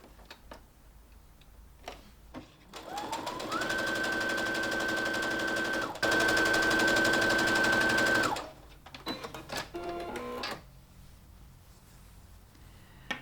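A sewing machine stitches long fabric strips together for a tote bag, revving up into a loud, steady run of several seconds with a rising whine, framed by clicks and fabric handling before and after.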